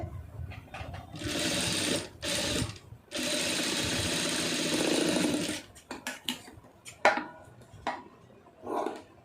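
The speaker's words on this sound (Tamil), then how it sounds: "கரெக்டாக ஒட்டில் வந்து தையல் போட்டுருங்க" A sewing machine stitches along folded cloth for a knot-style design, running in two steady, fairly loud bursts of whirring, then giving way to short stops, quick starts and a few small clatters.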